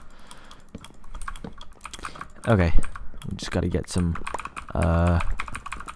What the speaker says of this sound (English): I've got the mechanical keyboard has Cherry MX, blue switches, or at least switches that are the same design as the blue switches. They're clicky switches